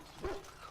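Single short dog bark from the video game Dragon Age: Origins, brief and fairly faint, standing alone.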